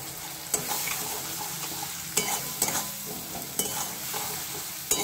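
A spice paste with Kashmiri chili powder, cumin, coriander and other ground spices sizzles softly in a pan while a spoon scrapes and stirs it in repeated sharp strokes.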